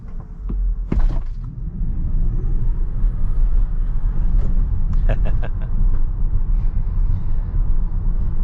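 A 2023 Tesla Model Y electric SUV drives along back roads, giving a loud steady low road-and-tire rumble inside the cabin, with a few brief clicks and rattles near the start and middle.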